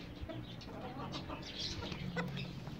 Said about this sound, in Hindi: ये देखो फ़ौरन मुर्गी आ गई